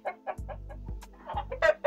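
Chickens of the Dakan fighting breed, a hen and a rooster, cluck and squawk in short, close bursts with low rumbling noise underneath.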